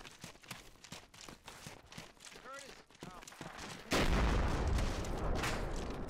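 A bomb strikes in a squad-based military video game: scattered, distant pops and thuds give way to a sudden heavy blast that becomes a loud, sustained broadband roar and rumble.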